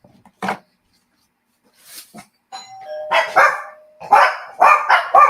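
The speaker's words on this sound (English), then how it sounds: "Let me go see why the doorbell's ringing and the dogs are having a conniption fit." A doorbell chime rings, then several dogs break into a burst of loud, close barking that continues in repeated bursts.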